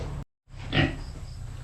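Guinea pigs roaming free-range on a farm give a brief squealing call over steady outdoor background noise.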